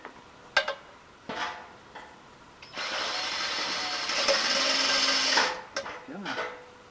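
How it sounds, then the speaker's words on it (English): A few sharp knocks, then a power drill whirs steadily for several seconds, its motor pitch shifting slightly before it stops, followed by a brief clatter. "I think the better thing to do would be to just drill a second hole in right in here"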